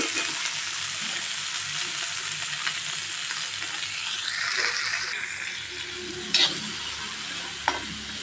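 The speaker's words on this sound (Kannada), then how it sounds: "ಈ ಸಣ್ಣ ಉರಿ ಇಟ್ಕೊಂಡು ಇವನ್ನ ಹುರಿಬೇಕು." Radish pods frying in a spoonful of oil over a low flame, a steady close crackling sizzle with occasional stirring scrapes and two sharp utensil knocks near the end.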